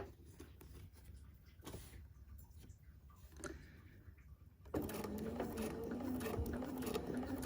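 A sewing machine stitches a quilt block along a quarter-inch seam, with quiet mechanical ticking and clicks at first, then a louder steady whirring run of the motor.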